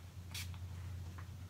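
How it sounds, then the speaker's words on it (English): LA Girl Pro setting spray gives a short hissing spritz from a pump bottle, one brief burst followed by a fainter second puff, close by over a low steady hum. "I'll spritz that with my LA Girl Pro Setting Spray"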